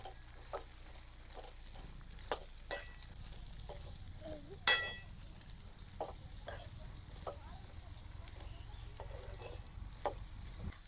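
Corn kernels are stirred in a frying pan, giving a low sizzling hiss with scattered scrapes and knocks, including one sharp clink partway through, heard up close at a modest level.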